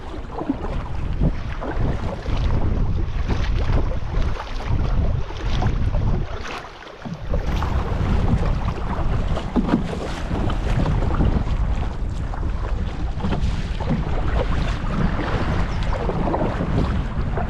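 Strong gusty wind and choppy waves on Lake Manitou in Algonquin Park while paddling a canoe along the shore, a loud continuous rushing roar with splashing bursts and brief lulls.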